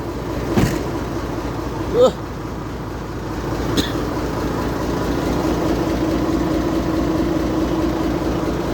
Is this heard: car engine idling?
yes